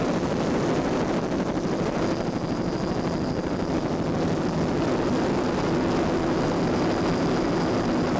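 A 30-foot Scarab offshore racing powerboat roars past during an Ocean City Grand Prix race, a steady, loud, droning engine with no speech.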